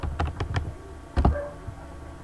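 Keys tapped on a computer keyboard while an IP address is entered, a quick run of close, light clicks followed by a pause and a second brief burst of taps.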